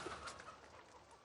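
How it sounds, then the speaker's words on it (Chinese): Qibainong chickens in Guangxi give soft, scattered clucks as they crowd in to feed, faint and fairly close with quiet background. "小鸡们蜂拥而上，连头也顾不得抬上一下。"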